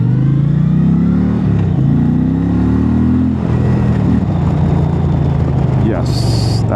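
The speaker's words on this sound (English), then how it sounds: "When you twist the throttle, you take off." An Indian Challenger motorcycle surges forward as the throttle is twisted, its engine note rising through a shift and then settling into a loud, steady roar with heavy wind rush, close up.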